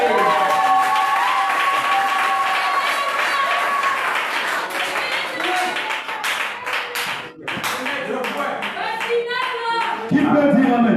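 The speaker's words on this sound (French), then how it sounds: "Acclamez pour vous-même." A church congregation claps loudly and continuously during a worship service, dense hand claps from many people filling the room, with voices mixed in and a brief dip before the applause resumes.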